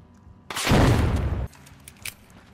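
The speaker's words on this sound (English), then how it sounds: "Throwing a frag." Frag grenade exploding in the shooter game The Finals: a single loud, close burst lasting about a second with a rumbling tail, followed by faint scattered debris clicks.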